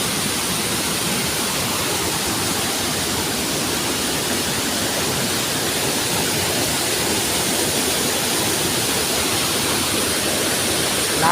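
Water rushes steadily over the rocky rapids of Ban Tagoi, a dense, continuous broadband roar with no breaks or voices, close and loud throughout.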